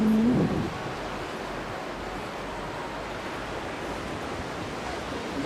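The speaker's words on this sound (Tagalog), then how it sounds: "masyadong malakas yung hampas ng hangin" Strong wind roars across a beach at Sabang, a dense, constant rush buffeting close to the microphone, with surf blended into the noise and no speech.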